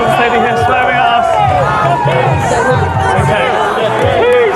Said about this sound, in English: Everyone's screaming, yelling.